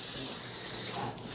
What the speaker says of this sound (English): So I could spray, hypothetically, as much of this fucking shit into my pan as I want.